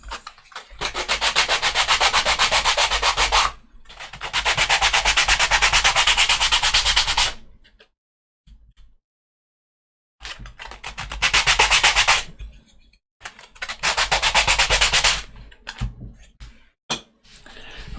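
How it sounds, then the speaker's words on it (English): Sandpaper rubs burrs off small wooden parts for a 1:200 scale model ship, coming in several long, loud bursts of steady scratchy strokes separated by short pauses, heard close and alone. "all we do then is just take a little bit of sandpaper and just remove any burrs"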